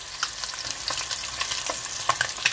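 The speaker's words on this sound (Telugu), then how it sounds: "గుడ్లు వేగిపోయినాయండి." Eggs frying in hot oil in a pan, a bright crackling sizzle with scattered sharp pops and spatters, close and continuous, no voices.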